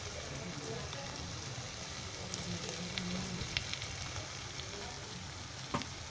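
Pure ghee sizzles in a pan of bottle gourd halwa, a soft steady crackle with faint scattered pops and a few scraping stirs, fairly quiet throughout.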